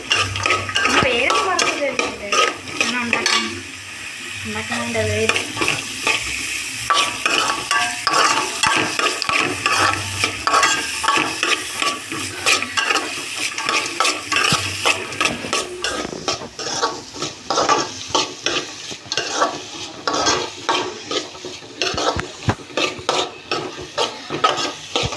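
Carrots and potatoes stir-fried in a pan, a spoon scraping and clattering against the metal in an uneven rhythm over a soft sizzle throughout.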